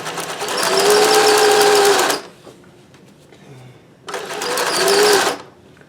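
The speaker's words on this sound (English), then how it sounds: "So we're still able to sew, no surprise, at high speed." A Singer 411G sewing machine running at high speed through rubber-backed fabric, two loud close bursts of rapid whirring stitching separated by a short quiet pause with faint clicks.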